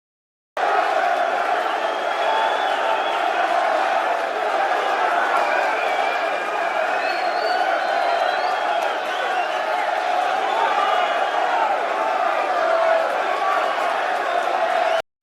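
An arena crowd at the Usyk vs Gassiev championship boxing fight keeps up a steady, restless roar and murmur from start to finish, with a voice running over it.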